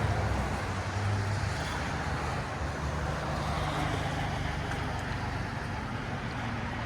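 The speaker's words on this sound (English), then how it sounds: "It's quiet at idle, as you guys can see, but when he gets on it, it gets loud" A 2007 Toyota Highlander 2.4L fitted with a Borla Pro XS muffler and stock resonator idles in a steady, low, even rumble with a constant hiss over it, close and unbroken, with no voices.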